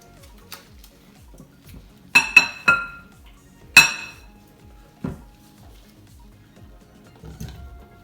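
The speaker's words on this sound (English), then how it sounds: "So now I'm going to put the beets inside the jar." Pickled beets being put into hot 500 ml glass canning jars, with a few sharp glassy clinks and knocks spaced across a quiet background.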